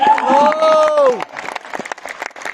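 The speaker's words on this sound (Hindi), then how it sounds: "बहुत बहुत तालियां" An audience at a jewellery brand launch event in a hotel breaks into applause, a burst of clapping and crowd noise that follows a sustained tone and then continues in scattered, uneven claps.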